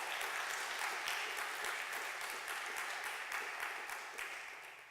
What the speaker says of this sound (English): A big round of applause for Dina, thank you.